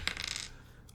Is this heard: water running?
no